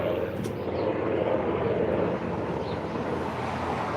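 Aircraft, airplanes or helicopters, flying over outdoors: a steady, loud, broad droning roar with a faint whine running through it, holding level for the whole stretch with no speech.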